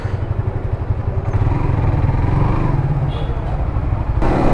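A motorcycle being parked at a roadside market in the morning, its engine rumbling close and fairly loud throughout, with a brief clatter near the end.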